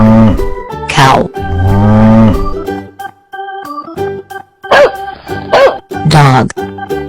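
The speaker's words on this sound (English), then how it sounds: "Cow." A cow lets out several long, loud mooing calls with drawn-out tonal lowing between them, close by and unaccompanied by talk.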